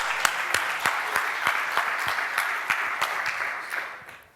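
A tech conference audience applauds after presenters from MySpace are introduced. Dense, even clapping holds for about four seconds before fading out.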